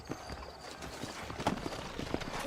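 Horse hooves clip-clop at an easy walking pace in the Red Dead Redemption video game, a run of quiet, moderately close hoofbeats on dirt with faint ambient background.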